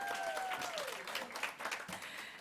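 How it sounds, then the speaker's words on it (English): A summit conference audience claps after partners are welcomed on stage, a soft, somewhat distant patter of applause with a brief voice overlapping at the start. "You can clap."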